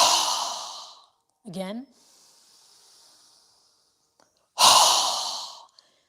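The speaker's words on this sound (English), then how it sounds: "go ahead and inhale through your nose. Strong exhale." Forceful nasal exhales in a yoga breathing exercise: two loud, hissing breaths, one at the start and one near the end, with a short spoken word between them and a faint breath in the quiet middle.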